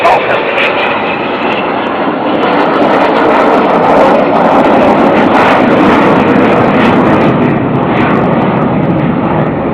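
An Avro Vulcan bomber passes overhead at an air show, its engines producing a loud, continuous roar that fills the whole stretch and rises slightly in the middle.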